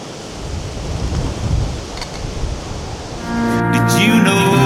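Strong storm wind rushing through a forest in Snowdonia, a loud, rumbling, gusting roar that swells and eases before tonal music comes in over it near the end.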